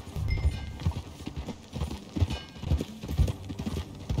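Horse hooves clip-clop in a steady, close rhythm in Red Dead Redemption 2, the even beats running throughout with no voices.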